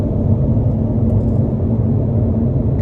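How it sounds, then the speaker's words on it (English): Low, constant roar of tire and road noise inside a 2009 Audi R8 R Tronic V8 cruising on a rough stretch of interstate, loud and steady with no talk. "this is a pretty rough stretch of interstate, still pretty loud on these tires"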